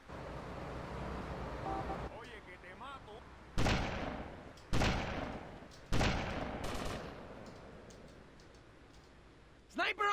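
Sniper gunfire in the video game GTA Vice City: three sharp, loud shots about a second apart, then a quieter stretch with faint game sounds, voices and another late crack.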